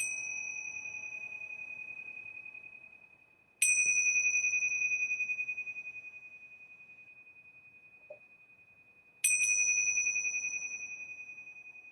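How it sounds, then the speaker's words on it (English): A meditation bell rings three times at slow, spaced intervals, each clear bright strike ringing out and decaying gradually into quiet, with a faint click between the second and third strikes. "And now you're just going to listen to the sound of this bell."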